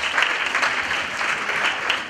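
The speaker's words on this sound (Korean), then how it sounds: "다시 한번 주님께 영광의 박수를 드리겠습니다." A church congregation claps steadily during a young adults' worship service, dense sustained applause with no voices over it, even in level throughout.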